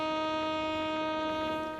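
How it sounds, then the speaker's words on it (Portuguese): A bugle plays taps at a military funeral ceremony, a sustained brass tone holding steady and clear, its pure harmonics ringing out alone for almost two seconds before fading slightly at the end. "E o toque de silêncio."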